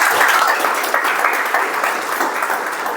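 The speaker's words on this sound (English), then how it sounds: "Let's give a big round of applause to Toastmasters." Applause from attendees at a Toastmasters club meeting, a steady continuous patter of many hands clapping at moderate loudness, holding level throughout without voices.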